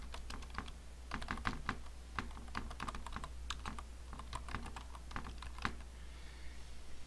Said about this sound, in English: Once again, type in the URL of your website.